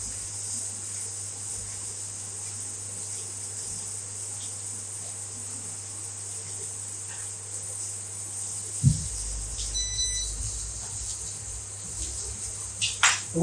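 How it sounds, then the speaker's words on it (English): Peppers sizzle in a hot pan while a vegetable chimichanga is cooked, a steady bright hiss that runs throughout, with a dull knock of the pan and some light scraping near the end. "Next, going into the pan will be the peppers."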